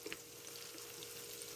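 Sausage and ham frying in a pan with hot sauce just added, a steady soft sizzle and crackle throughout with a sudden louder burst at the very end.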